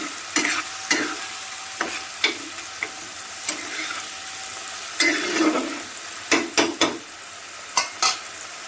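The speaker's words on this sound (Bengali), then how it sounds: "এবার ভালো করে পেঁয়াজের সঙ্গে মশলাটাকে কষাবো" A spoon stirs and scrapes a spice paste with onions in a sizzling pan, a low fry hiss under repeated clattering knocks and scrapes, close and without speech.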